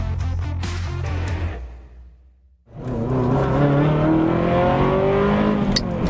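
A Ferrari F355's 3.5-litre naturally aspirated V8 revs hard, dies away to near silence, then catches and climbs again into a loud, sustained, rising engine note close by.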